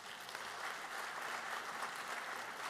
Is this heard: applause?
yes